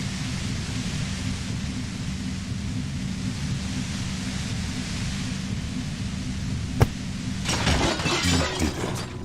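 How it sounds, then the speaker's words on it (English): A compressor smashed and broken in Disco Elysium: a sharp single crack followed by a burst of shattering, breaking clatter over a steady roaring rumble. "The compressor lies broken on its side."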